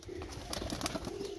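A male pigeon, once taken for a female, coos repeatedly with low, rolling calls. The bird sounds close by and carries on steadily, with no voices over it.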